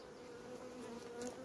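Steady, close buzzing hum of many honey bees at a hive with a red queen, continuous and unbroken with no voices.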